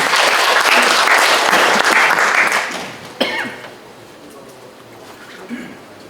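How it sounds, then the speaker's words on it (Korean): Dense audience applause fills a safety forum hall, loud and steady for nearly three seconds before fading, followed by a sharp knock and quieter scattered claps trailing off into near silence. "여기까지 이해가 되셨으면 한번 박수 한번 쳐주시고요."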